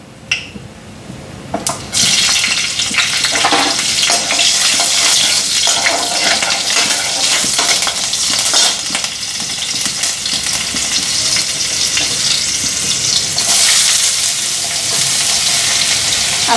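Green chillies hit oil in a very hot wok and burst into a loud, crackling sizzle after a short quiet start, then spit and hiss continuously up close.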